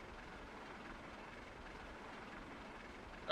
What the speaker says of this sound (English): Oh, there goes the other train.